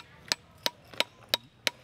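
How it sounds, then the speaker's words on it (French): Five sharp hammer blows strike a metal bloom taken from the hottest part of a furnace, evenly spaced about a third of a second apart, each a bright ringing impact with no talk. "Donc c'est du métal, je pourrais taper dessus."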